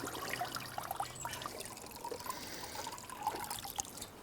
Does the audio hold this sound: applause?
no